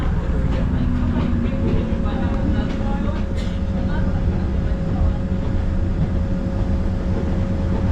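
A steady rumbling passenger train approaching Makadara station near Nairobi runs throughout with a sustained tonal hum and rattling, while a voice speaks over it.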